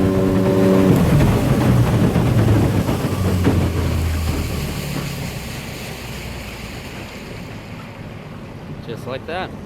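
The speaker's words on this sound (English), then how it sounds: "now we'll cut the throttle and come down off plane" A Zip motorboat comes off plane as the throttle is cut, its engine roar and water rush loud at first, then fading and settling into a quieter idle with splashing water.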